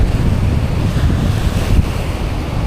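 Steady, loud wind buffeting the microphone over a low roar of surf at a fishport pier, with no talking.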